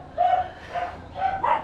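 A dog barks several times in short, fairly loud bursts close by, heard outdoors near a hut with no talk during the barks.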